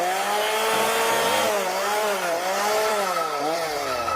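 A chainsaw runs loud and close in a horror prank, its engine droning continuously with rising and falling revs as it is throttled, with no voices over it.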